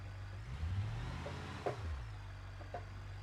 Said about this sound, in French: Non, les gars, on entend le bruit du moteur.